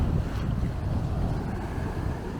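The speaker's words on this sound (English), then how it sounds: "where I can get the wave cracking above the rocks" Sea waves breaking over coastal rocks, a continuous rushing wash mixed with heavy wind buffeting the microphone.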